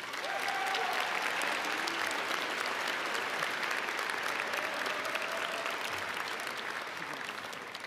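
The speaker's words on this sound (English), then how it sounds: "Please give Angelina a round of applause" Audience applause fills a high school commencement ceremony in Ames, a steady, dense wash of clapping from a large crowd that holds evenly for the full stretch.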